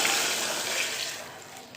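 Water pours steadily into a pot in a broad, hissing gush for a couple of seconds, close up, with no talking, while making tomato pepper rasam.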